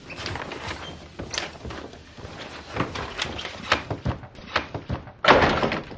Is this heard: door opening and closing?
yes